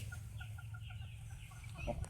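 Several chickens cluck in short, repeated soft calls beneath a cat's cage on a hot day, fairly faint and close, with no talking.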